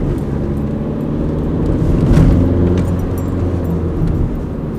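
A car with a fault that makes it pull weakly is heard from inside, a loud low engine drone rising slightly in the middle as the driver presses on but it struggles to accelerate, with steady road noise and no talk.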